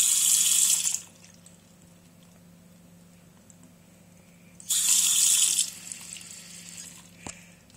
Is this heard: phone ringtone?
no